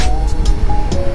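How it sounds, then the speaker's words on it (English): Strong wind from a huge windstorm buffets the microphone at a fishing spot, a loud low rumbling roar with gusty bursts, continuous throughout and no one talking. "sorry about the wind. It's really bad. It feels like it's a huge windstorm."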